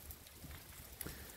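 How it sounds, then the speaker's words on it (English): Steady pouring rain in a wooded park near a busy parking area, a dense wash of drops hitting surfaces continuously at a fairly low level, with no voices over it. "and it's pouring rain."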